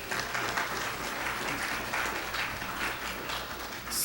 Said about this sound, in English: Please welcome Mr. Jiru Bande to the podium with an applause